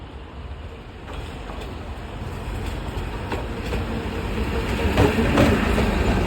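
A train rumbles past on the track in Colombo, Sri Lanka, with steady clickety-clack of wheels over rail joints, growing louder and closer, no voices.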